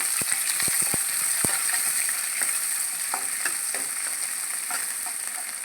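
Chopped small onion frying in oil for idli upma, a steady bright sizzle with a few sharp scraping clicks of a spoon stirring the pan early on, close and continuous.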